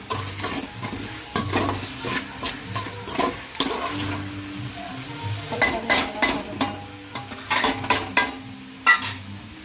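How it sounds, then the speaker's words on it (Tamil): Tomatoes cook in a pan for country chicken biryani, with a soft sizzle beneath repeated scraping stirs that come in irregular bursts, close and fairly quiet. "அடுத்தது நம்ம தக்காளி போட்டுக்கலாம். தக்காளி நல்லா வதங்கணும்."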